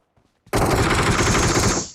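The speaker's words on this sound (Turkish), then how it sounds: "Bak biri sıkıyor." Automatic gunfire in the PUBG video game bursts in suddenly as a loud, close, rapid rattle of shots that runs on for about a second and a half.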